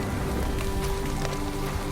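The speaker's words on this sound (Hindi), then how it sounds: "बारिश होने लगी।" Rain pours steadily in a forest at night onto a thick plastic sheet, a dense, even hiss with soft patter and no break in it.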